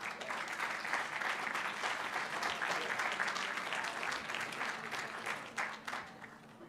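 A steady round of applause at a Board of Education meeting honours a school colleague, with sustained, even clapping from a seated audience that tapers off near the end.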